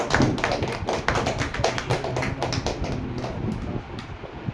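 Loud applause fills the hall at a mobile repairing course's batch-ending ceremony: a dense, steady patter of many hands clapping up close, slowly easing in strength toward the end.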